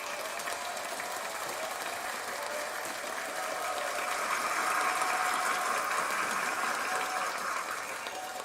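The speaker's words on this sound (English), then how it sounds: "All right, let's give him a little clap." A small scattered clap of applause from a few hands, steady and fairly faint, lasting several seconds without talk.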